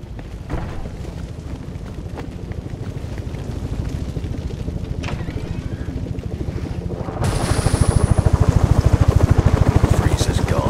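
A helicopter in the video game Batman Arkham Origins gives a steady rhythmic rotor chop under a broad wash of noise, growing louder and brighter over the final few seconds.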